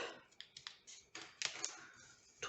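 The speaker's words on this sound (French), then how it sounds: "On va prendre les ciseaux et on va couper" Sharp, irregular snips and crisp paper rustles from scissors cutting card stock while making a Stampin' Up! diamond Christmas ornament. The cuts come in a quick close-up burst of short bursts, with no talking.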